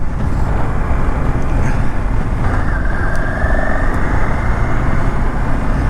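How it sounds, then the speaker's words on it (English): Motorbike turning quickly on the road, heard as a loud, steady engine drone with rushing wind across the whole stretch and a brief rising tone partway through. "I had to do a quick U-turn in the road."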